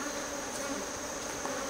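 Honey bees buzz densely while attacking a hornet, a continuous close swarm hum that holds steady and alone for the whole moment.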